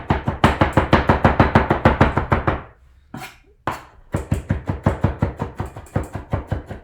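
Rapid, even knife chops strike a cutting board in a steady rhythm, chopping food into a paste, pausing briefly for a scrape before the quick chopping resumes.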